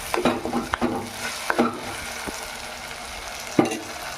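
Country chicken curry being stirred in a pan, a soft continuous sizzle with a few scattered scraping clinks of the spoon, quiet and close.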